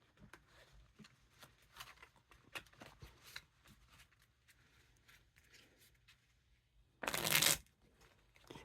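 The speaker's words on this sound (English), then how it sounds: "Riffle Shuffle." A deck of Ellusionist Queen Bee playing cards is riffle shuffled in one quick, crisp burst near the end, after several seconds of quiet clicks and light card handling.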